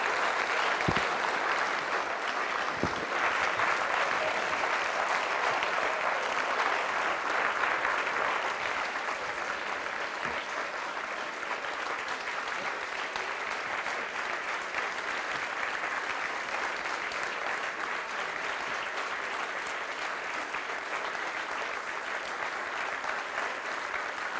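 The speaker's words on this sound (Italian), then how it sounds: "nell'applauso c'è anche un po' di calore in più" A lecture audience applauds a visiting French history and political sociology professor, a dense, steady wash of clapping that holds evenly for the whole stretch with no voices over it.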